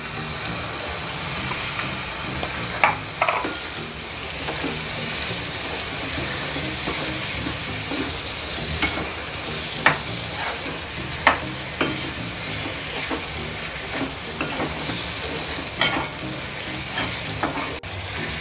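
Prawns sauté in a homemade masala in a hot pan, giving a constant close sizzle with irregular sharp taps and scrapes from stirring over several seconds, and no one speaking.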